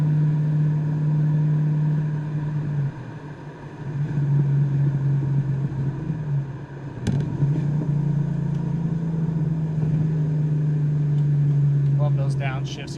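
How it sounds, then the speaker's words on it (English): A 1990 Ford Mustang GT Fox body with about 17,000 miles and a Flowmaster exhaust rumbles steadily while driving, its low exhaust note dipping and rising again through a pair of downshifts, close and loud. "Love those downshifts here in the Flowmasters."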